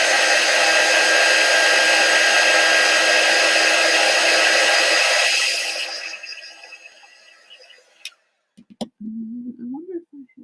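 A hair dryer blows loud and steady at close range while drying a Chalk Couture project, then switches off and winds down, followed by a few clicks and someone speaking.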